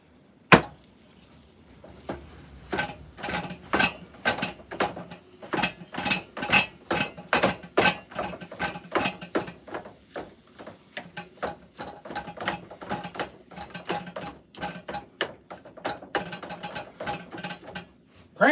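A salt grinder is cranked by hand in a cabin kitchen, producing rapid gritty ratcheting crunches in uneven bursts with brief pauses, close and fairly loud, no talking.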